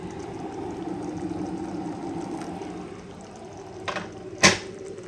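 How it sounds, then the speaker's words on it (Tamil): Water runs into a cooking pot of thanni pongal as a steady, moderately loud rushing pour, followed by a couple of brief clinks near the end. "கொஞ்சம் வாட்டர் ஆட் பண்ணிக்கலாம்."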